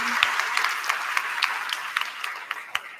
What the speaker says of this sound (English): Can you please give a round of applause to my students again?